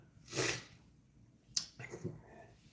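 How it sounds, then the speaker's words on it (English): A single close sneeze bursts out, followed by a short sniff and a couple of soft breathy snorts. "I'm about to sneeze"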